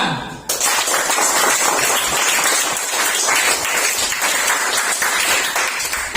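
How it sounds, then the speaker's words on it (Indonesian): A classroom of students claps together in loud, dense applause that starts abruptly and holds steady for several seconds with no voices over it. "beri aplaus untuk kita"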